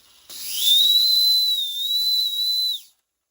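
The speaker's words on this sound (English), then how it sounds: "push the whistle down with a steel rod, as Michael just suggested." A Wilesco live steam engine's whistle, pressed down with a steel rod, gives one sustained, loud, near high-pitched steam whistle lasting over two seconds with a slight wavering pitch over a hiss of steam, then cuts off cleanly.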